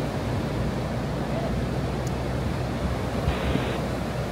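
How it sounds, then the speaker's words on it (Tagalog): Strong surf crashing continuously with heavy wind buffeting the microphone, loud and close, no voices. "Malakas yung alon."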